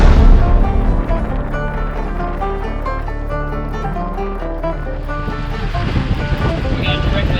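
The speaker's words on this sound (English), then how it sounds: "Yep, we asked for wind. We got wind!" During a storm at sea on a sailing passage from New Caledonia to Australia, strong wind buffets the microphone and waves surge and crash around the boat in a loud, continuous roar.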